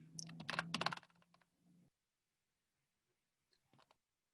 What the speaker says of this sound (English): Typing a quick answer to that in the chat.